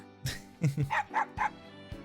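A dog in the fighting game Persona 4 Arena Ultimax gives several quick, loud barks and yips in a choppy burst. Game sounds play beneath it.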